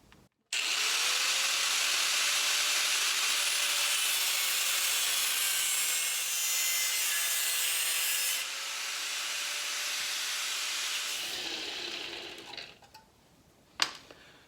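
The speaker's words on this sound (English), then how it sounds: "as I'm cutting these pieces to the right length, I'm actually cutting them together" Metal pieces for a sawmill belt guard are cut to length together, a loud, close, continuous grinding whine with a rising then steady pitch that ends after about eleven seconds, followed by a few clanks.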